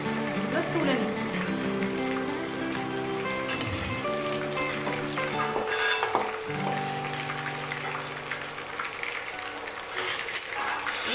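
Chicken pieces frying in oil in a pan, a steady close sizzle running throughout with occasional stirring and clinks, while someone talks over it.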